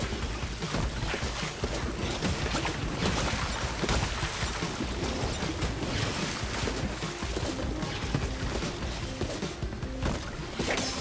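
Water in the Crash Bandicoot 4 video game, a dense, continuous rushing and splashing wash that stays loud and steady throughout, with no voices.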